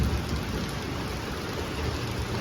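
Heavy rain pouring down during a thunderstorm, a dense, steady hiss of drops on surfaces with a low rumbling undertone, continuous and loud throughout, with no voices.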